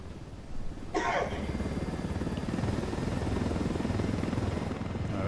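A helicopter in the video game Ghost Recon Wildlands gives a steady, continuous rotor drone at moderate level throughout, with a brief cough-like burst near the start and no talking.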